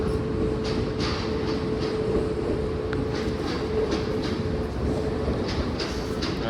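A train rolls by with a steady low rumble and rhythmic clacking of wheels, continuous throughout.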